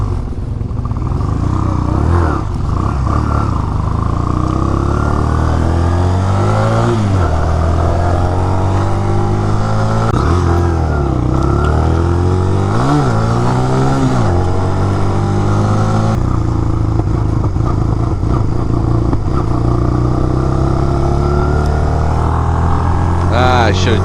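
A Honda Rebel 250 motorcycle engine idles and revs close by, with a loud, steady drone broken by several rising-and-falling throttle blips across the whole stretch.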